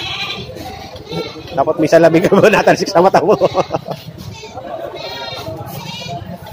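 Goats bleating at a livestock market, a burst of repeated wavering calls in the middle with more bleats toward the end, heard alongside nearby talk.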